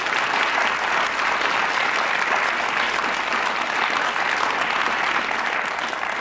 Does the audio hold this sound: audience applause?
yes